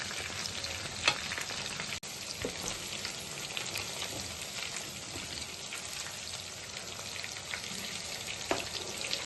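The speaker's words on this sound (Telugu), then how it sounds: "స్టవ్ మీడియం ఫ్లేమ్ మీద పెట్టుకొని ఇలాగా మనం ఫ్రై చేసుకోవాలి" Chicken pieces fry in a pan over a medium flame for chilli chicken, with a constant soft crackling sizzle that stays even from start to finish.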